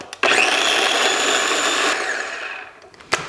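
A food processor blends chili paste for a chili con carne, whirring loudly and close for about two seconds before spinning down, then a short clunk at the end.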